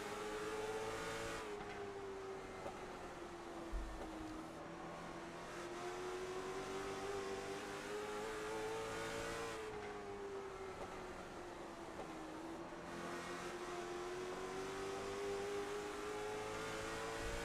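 From onboard the number 1 late model stock car at South Boston, the engine holds a steady high drone that rises and falls gently as it works through the corners, loud and continuous with no talk.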